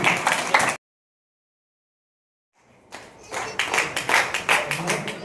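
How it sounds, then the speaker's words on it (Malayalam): A burst of talk, then a short silence, followed by a few seconds of steady, fairly loud clapping from a group of people. "കൈയടിക്കണേ."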